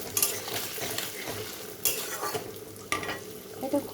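Paneer lightly frying in a pan with whole spices for a vegetarian spinach-paneer dish, giving a steady close sizzle broken by stirring scrapes and a few sharper utensil knocks, with no talking.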